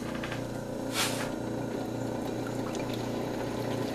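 A cabochon sanding drum machine with a 600-grit drum, spinning at 1725 RPM, gives a steady motor hum with a splashing, watery trickle and one brief sharp burst near the start, no speech.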